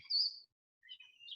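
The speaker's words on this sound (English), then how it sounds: "The birds chirping in your background." Birds chirp in short high tweets outdoors behind a prayer call, one burst early and another scattered run of chirps near the end, faint and distant with no talking.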